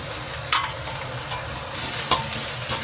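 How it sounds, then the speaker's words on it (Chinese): Garlic, pickled chili and minced aromatics stir-fry in red chili oil over low heat for braised eggplant: a steady close sizzle with two sharp spatula scrapes against the wok. "转小火，慢慢把料头的红油与香味炒出来"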